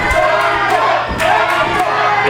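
Wrestling crowd at a Pro Wrestling Legacy lucha libre match, a dense, loud roar of cheering and shouting voices that swells in waves and carries on without a break.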